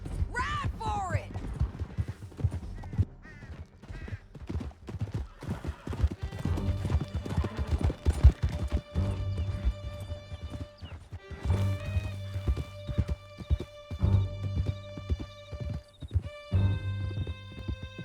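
Several horses gallop in Red Dead Redemption 2, with rapid hoof clip-clop, a whinny and rattling tack, loud and close under shouted voices and game music.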